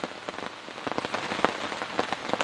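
Steady rain patters on a surface around an angler sheltering during a fishing trip, a dense, even hiss with scattered louder drops throughout and no voices.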